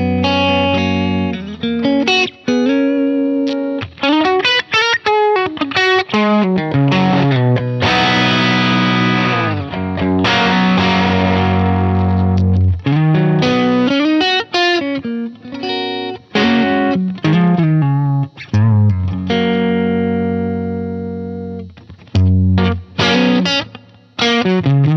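An electric guitar plays through a Vander Guitars Drive-Thru overdrive pedal into an amp, with loud, gritty driven chords and riffs, sustained notes and quick muted stops. No one speaks.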